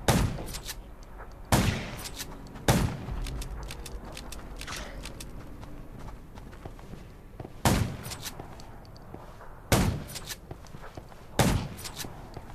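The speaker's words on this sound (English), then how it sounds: "Gunshots will attract more zombies." Gunshots ring out in the zombie survival video game Undawn, about six sharp loud cracks spaced irregularly over a quiet ambient background.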